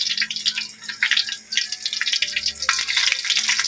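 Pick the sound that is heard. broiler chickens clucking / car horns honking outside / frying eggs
frying eggs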